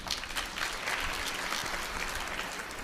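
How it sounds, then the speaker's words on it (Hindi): Audience applause at a religious gathering, a dense, steady burst of many hands clapping together that fills the whole stretch at an even loudness, with no voices rising above it. "ताली बजाने के लिए।"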